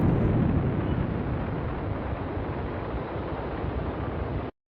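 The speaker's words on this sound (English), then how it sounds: "Scott, I think I may have just seen an explosion to the southeast of the Capitol building" Explosion sound effect in an audio drama: a loud, roaring blast that settles into a sustained rumble, full and close, then cuts off abruptly.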